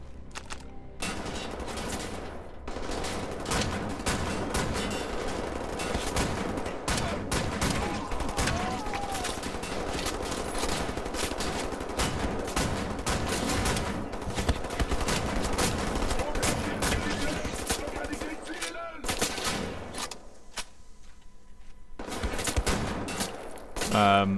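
A sustained firefight from Wolfenstein: The New Order, with shotgun blasts and automatic weapons going off in dense, loud bursts almost without pause, briefly dropping out near the end before the shooting resumes.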